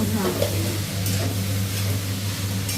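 Flattened rice pulao (chire pulao) fries in a pan with a continuous sizzle and soft stirring scrapes, joined by a steady low hum throughout.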